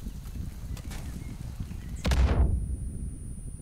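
Dynamite blast in the video game Far Cry New Dawn, one loud booming explosion about midway that fades over a second, set against constant low game rumble with a few faint gunshot-like cracks earlier.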